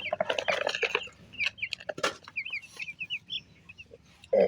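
Domestic country chickens and a rooster on a backyard poultry farm cluck and chirp repeatedly at close range, a dense run of short calls that thins into scattered clucks.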